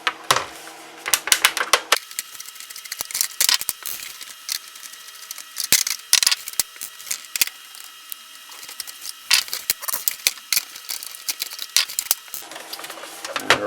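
Screws are being removed from a Sega Genesis Model 2 console shell, producing a series of sharp, close clicks and ratcheting taps in irregular bursts with quiet gaps between.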